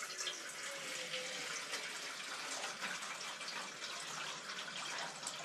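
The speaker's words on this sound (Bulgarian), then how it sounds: "сложа топла вода от бойлера." Hot water from a boiler pours steadily into a cooking pot, a continuous broadband splashing gush that stays even and close throughout with no voices.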